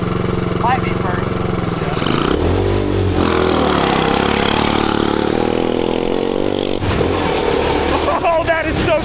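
A turbocharged Corvette-engined five-speed shifter go kart accelerates loudly up close, its engine note rising steadily through a gear and dropping off near the end, with people talking excitedly over it.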